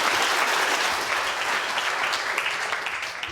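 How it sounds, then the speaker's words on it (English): Audience applause rings out for a lecturer after a food science demonstration, a dense, steady round of clapping that holds throughout and tapers slightly toward the end. "Big round of applause for Professor Claire Smith."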